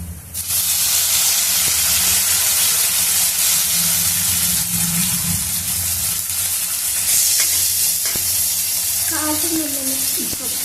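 Steady sizzling and hissing of tomato pieces frying in a pan, continuous throughout, with a few clinks and scrapes of stirring near the end.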